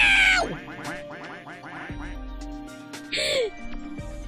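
Cartoonish duck quacks burst out in a rapid run from the Digimon Story Cyber Sleuth video game, loud and close, with a second bright quack cluster later over game sound.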